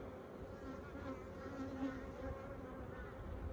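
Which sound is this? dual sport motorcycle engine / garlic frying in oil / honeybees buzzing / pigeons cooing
honeybees buzzing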